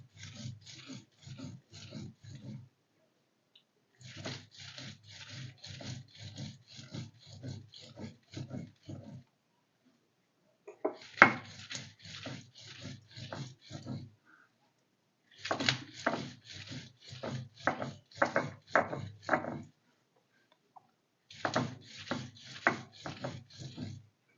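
Karvanda chutney ground on a stone slab (pata), heard as rhythmic bursts of rough grinding and rubbing strokes in repeated runs separated by short quiet pauses.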